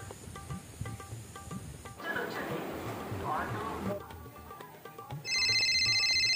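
A phone ringtone sounds in a comedic home scene, a bright repeating electronic tone that starts late and rings loudly over background noise after a stretch of talk and rustling.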